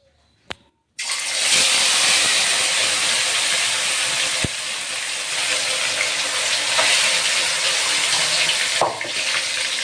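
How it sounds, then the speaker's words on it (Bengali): A katla fish sizzles in hot mustard oil. After a brief quiet start with a single click, a loud, continuous frying hiss swells in and carries on to the end. "সর্ষা তেল, এটা সর্ষা দিয়ে তেল দিয়ে আমি মাছটা ভাজছি।"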